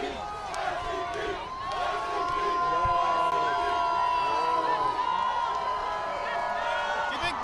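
A large crowd at a Toronto Raptors celebration in Toronto cheers, whoops and shouts in a loud, dense, steady roar with scattered high yells rising above it, while nearby voices talk under the noise.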